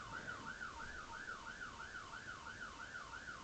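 A wailing emergency siren in a police video game, sweeping up and down in a steady regular cycle, continuous and fairly faint with no talk.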